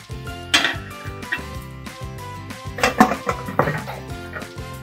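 A pressure cooker lid is handled while mutton korma cooks, making several close metallic clanks and clinks in uneven clusters over a low background tone.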